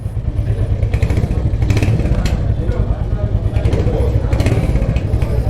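A Royal Enfield Hunter 350 motorcycle engine idles close by with a steady, thumping rumble and light mechanical clatter, continuous throughout with some talk nearby.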